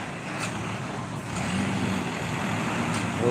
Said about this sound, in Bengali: এই যে এই যে একটা ট্রাক যাচ্ছে